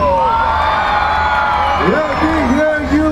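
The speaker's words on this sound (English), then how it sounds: "Let me hear you make some noise." A crowd at a naval base open house whoops, cheers and shouts together, loud and close, with children's high voices and rising yells layered over the din.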